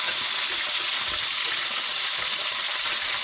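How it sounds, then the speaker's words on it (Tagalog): Steady, loud sizzling of chicken legs frying in a pan without oil, a continuous crackling hiss with no voices. "Prito ng manok pero walang mantika."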